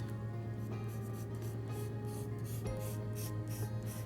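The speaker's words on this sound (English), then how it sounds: "And then I'm going to draw 2 vertical lines on the end." Pencil sketching vertical lines on paper for a surrealist jar drawing, a soft steady scratchy rubbing held continuously over a constant low hum, close and fairly quiet.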